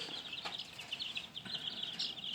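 Polish chickens kept in a coop give soft, faint clucks and chirps at close range, with a few brief calls over a quiet background.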